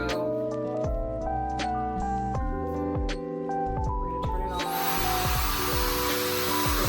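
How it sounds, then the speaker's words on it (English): A Webeauty 5-in-1 Hype-Air hair dryer and airwrap on its cool shot setting kicks in partway through as a steady, close airy blowing hiss, following a stretch of tonal background sound. "It's on the cool shot now. We're gonna turn up the heat, and it should just wrap around."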